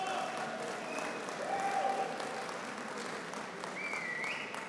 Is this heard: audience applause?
yes